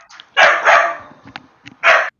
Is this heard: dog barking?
yes